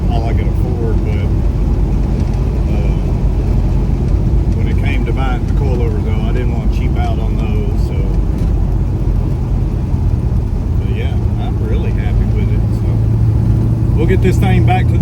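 A ratty Pontiac GTO fitted with QA1 coilovers drives along, its engine and road rumble a steady, close, loud drone, with voices talking over it throughout.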